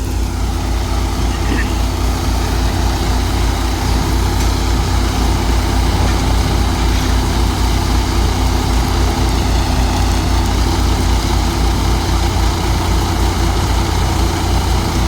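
A tractor-driven Shaktiman thresher threshing fennel runs with a steady, loud engine drone and deep low rumble, machinery churning without pause.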